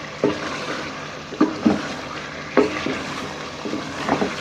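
Chicken and potatoes frying with spices in a pan, a close steady sizzle broken by several sharp clanks and scrapes of stirring at irregular intervals.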